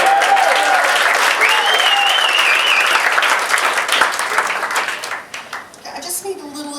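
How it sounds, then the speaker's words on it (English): Live comedy club audience applauding and cheering for a birthday girl called up on stage, dense sustained clapping with whoops that thins out toward the end. "Applause for the girl."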